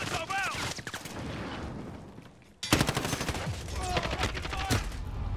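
Machine-gun fire rattles through a Call of Duty: Modern Warfare match, loud and sustained, dipping briefly before a sharp renewed burst of rapid shots with scattered impacts.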